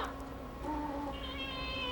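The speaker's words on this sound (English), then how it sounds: "There are some cats from the graveyard." Recorded cat meows and yowls from a haunted house ride's graveyard scene, several overlapping drawn-out wavering cries, fairly loud and continuous with no talking.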